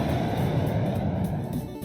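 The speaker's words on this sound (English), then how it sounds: "Jeff got out of his tank and climbed into the fighter jet, and he flew off into the sky." A Lego fighter jet takes off into the sky, carried by a steady, full-bodied engine roar that holds at an even loudness throughout, with no voices over it.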